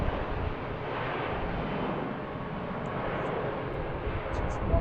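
American Airlines Airbus A319 departing BWI, a sustained broad jet rumble at moderate distance with some wind buffeting, and faint voices now and then.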